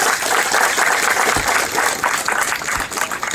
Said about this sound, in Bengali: আমি প্রত্যেককে রিকোয়েস্ট করব, এই ছেলেগুলোর জন্য অন্তত পক্ষে একটা জোরে হাততালি হয়ে যায়।